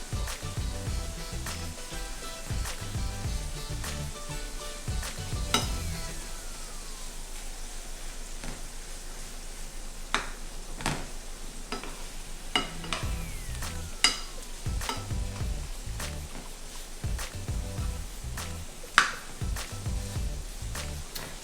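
Shrimp fry in a pan on a stove burner with a steady, close sizzle throughout, punctuated by sharp clicks and clatters of a utensil moving the food.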